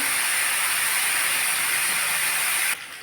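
Potato pieces fry in hot oil for a Bengali cauliflower aloo posto, a loud, steady, close sizzling hiss that continues without a break and drops abruptly in level near the end.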